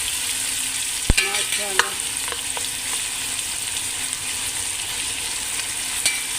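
Onions frying in hot oil for a lentil dal, a steady close sizzle with a few sharp stirring clinks, and a voice briefly speaking near the end.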